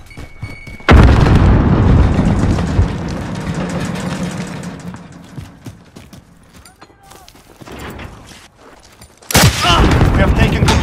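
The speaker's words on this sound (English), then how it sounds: "Grenade out!" In Call of Duty: Modern Warfare a loud grenade explosion bursts suddenly, rumbles and fades, then scattered gunfire follows and another sharp blast hits near the end.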